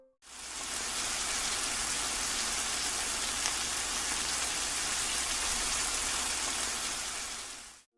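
Heavy rain pouring down steadily outside an exam hall in Dhaka, a dense continuous hiss that holds at an even, fairly loud level throughout with no voices.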